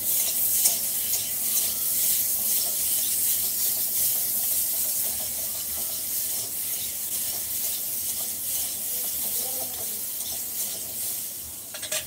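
Food frying in a pan in a home kitchen, a steady loud sizzle and hiss with rubbing, scraping stirring sounds running throughout, no talking.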